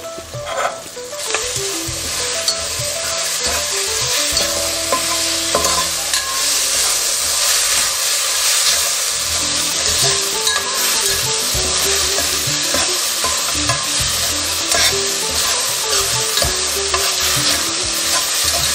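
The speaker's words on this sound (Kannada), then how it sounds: "ಮಾವಿನಕಾಯಿ ಹಾಕಿ ಚೆನ್ನಾಗಿ ಫ್ರೈ ಆಗಬೇಕು." Raw mango pieces stir-fried in a pan for mango rice give a steady, loud sizzle with frequent scraping of a spatula, continuous throughout with no talking.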